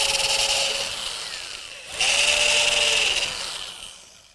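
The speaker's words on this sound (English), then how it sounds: "So the first thing I'll do is just simply drill straight through so I can get through the other side." A power drill bores straight through a wooden plant stand part with a steady high whine, easing off briefly near the middle and then surging loud again before tapering, heard alone and up close.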